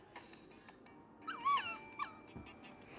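A dog in the video game Toca Life gives a few soft, high whimpers in close succession, quiet and whiny, over a faint background hum.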